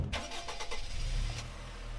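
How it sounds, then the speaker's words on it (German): A bus engine in a Roblox video game cranks with a few rapid starter pulses, then catches into a low steady idle rumble, close and moderately loud with no talking. "Oh ja, der Bus ist da."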